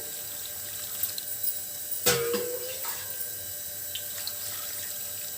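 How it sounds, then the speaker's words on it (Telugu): Two glasses of water are poured into a cooking pot for a sirraku pullagura leafy curry, a steady splashing flow with a brief sharper splash partway through, no voices. "రెండు గ్లాసులు నీళ్ళు పోతామండి"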